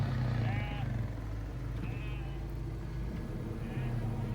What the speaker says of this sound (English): No, it's just sheep at the front.